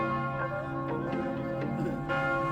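Church bells of Matthias Church in Budapest ring continuously with sustained, layered tones, heard steadily from nearby over faint ambient noise.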